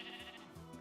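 A sheep bleats in the Minecraft video game, a short wavering bleat standing clearly in front of a steady game background sound.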